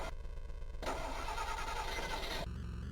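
In the Midway Arcade Treasures 3 video game, a car engine starts: a brief crank catches into a loud, steady running roar that cuts off abruptly after a couple of seconds.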